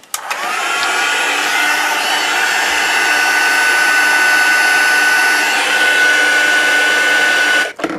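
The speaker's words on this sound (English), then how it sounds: "I'm just going to pop on my heat gun and heat set these little sentiments." A heat gun used to heat-set stamped sentiments on handmade cards blows with a loud, steady, close whoosh and a thin high whine, running continuously before it cuts off at the end.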